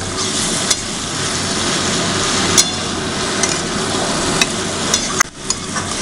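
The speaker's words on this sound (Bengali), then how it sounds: "এবার জিনিসটাকে ভালো করে নাড়াতে হবে এবং কষতে হবে" Spices stirred and frying in a pan for a Bengali home-style soyabean curry, a steady loud sizzle with a few sharp scrapes or knocks of the spoon against the pan, no talking.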